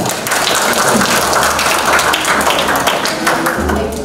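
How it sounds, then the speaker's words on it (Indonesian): A crowd claps together in a dense, steady burst of applause lasting a few seconds, with no voices. "Oke. Tepuk tangan."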